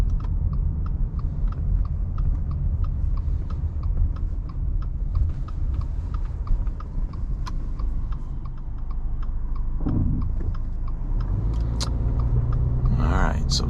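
A 2021 Subaru Crosstrek Limited with a CVT drives along a road, giving a steady low rumble and road noise with a regular ticking throughout, likely a turn signal, and brief voices near the end.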